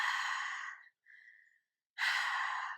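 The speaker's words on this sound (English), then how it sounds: "you want to create a sound on the inhale and the exhale" Ujjayi breathing in a pranayama practice: a long, breathy exhale through a closed mouth with a hissing, ocean-like rasp, then a pause, a short quieter breath and another strong audible breath, close and alone.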